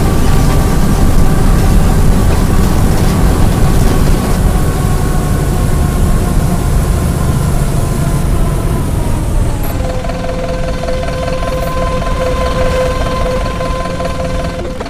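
A Mercedes-Benz OF-1721L engine in a 2014 Marcopolo Torino city bus runs at idle, a steady loud low rumble with mechanical rattle and whine throughout, the pitch of its tones dropping slightly partway through.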